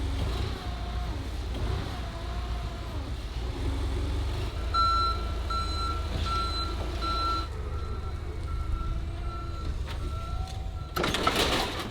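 Forklift reversing alarm in a garage workshop: a steady run of evenly spaced high electronic beeps, fairly loud, over low engine and shop noise, then a brief clatter at the end.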